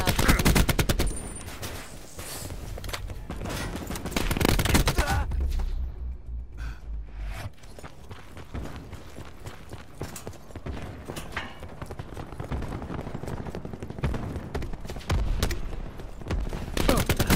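Rapid automatic machine gun fire in Call of Duty 4 multiplayer, dense bursts of shots near and loud, pausing briefly then continuing in clustered volleys throughout.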